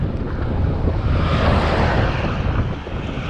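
A strong headwind batters the microphone of a touring cyclist on the road to Edremit, a loud, continuous roaring rush with no talking.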